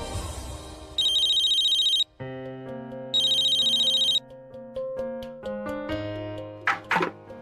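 A phone ringtone plays in two loud, bright bursts, followed by a short electronic melody and a couple of faint knocks.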